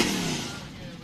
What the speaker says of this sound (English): Jay's revving up over there